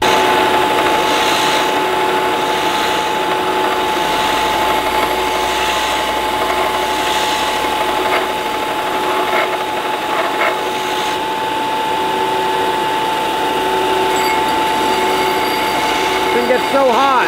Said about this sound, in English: So I'm gonna get this sucker welded out here